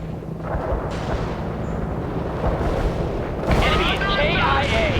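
An artillery barrage in the World in Conflict strategy game, a low continuous rumble of distant impacts that swells into a louder burst near the end, with voices speaking over it.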